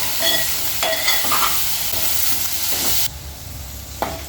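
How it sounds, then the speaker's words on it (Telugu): Okra fries in oil with onions for a bendakaya fry, a loud continuous sizzle with scraping stirs and occasional clacks of the spatula, the hiss dropping abruptly partway through before a final sharp knock. "చూడండి చక్కగా వేగుతున్నాయి"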